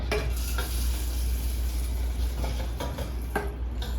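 Roasted, lightly salted pumpkin seeds being stirred into melted dark chocolate in a pot on the stove, a steady scraping and stirring with faint clicks of the spoon against the pot over a low continuous hum.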